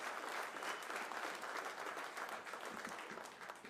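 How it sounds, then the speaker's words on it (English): A campaign rally crowd in Beaumont claps in a dense, steady wash of applause, faint and distant, fading slightly toward the end. "Big round of applause for Nate Sheets."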